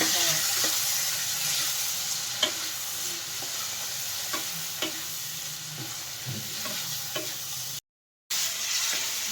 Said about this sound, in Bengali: আমাদের ঘুগনির মশলা আলু টমেটো যা যা দেওয়া হয়েছে সেগুলো চলছে ভাজা